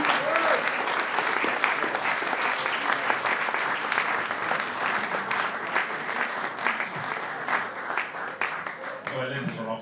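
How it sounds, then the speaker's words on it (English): Dense, sustained applause from a live audience for performers, many hands clapping loudly and evenly for nearly ten seconds before it thins out at the end. "a round of applause for 3 incredible acts"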